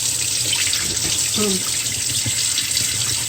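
Running water splashes steadily into a basin, a constant rushing flow with faint clinks and swishes of hominy corn being rinsed.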